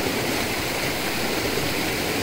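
Rain pours down steadily and close by, a constant dense hiss with no breaks and no one speaking.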